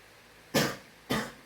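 A patient gives two sharp coughs, about half a second apart, during auscultation of the posterior chest in a respiratory examination. Each cough is close, loud and quickly fading, with quiet between.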